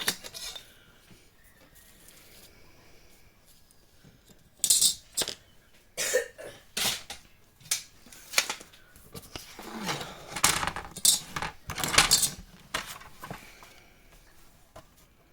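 Scissors snipping away excess material in a craft project, a series of sharp, close clicks and crisp cuts in uneven bursts after a quiet start.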